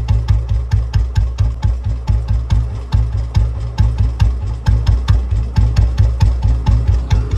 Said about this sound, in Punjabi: ਦੇਖੀ ਆਵਾਜ਼ ਇੰਨੀ ਕੁ ਸੈੱਟ ਆ ਨਾ ਬੁਲਟ ਦੀ, ਇੱਕ ਗੇਅਰ ਅਤੇ ਇੱਕ ਆਵਾਜ਼ ਬਹੁਤ ਸੈੱਟ ਆ